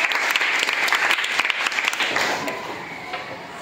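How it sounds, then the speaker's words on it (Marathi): Students at a school quiz competition applaud a classmate named Mayank, a dense burst of many hands clapping together that holds strong, then gradually thins and softens toward the end. "मयंकसाठी सगळ्यांनी टाळ्या वाजवायच्या"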